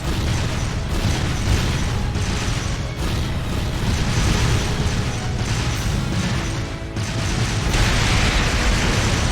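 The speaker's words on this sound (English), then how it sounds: "Fire a barrage to cover your retreat!" An artillery barrage in a battle in Trails of Cold Steel 2, a dense, continuous roar of overlapping explosions and mechanical rumbling at a loud, steady level with brief dips.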